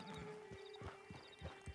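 Horse hooves clip-clopping at a walk in the Red Dead Redemption 2 video game, a quick uneven run of close, soft thuds.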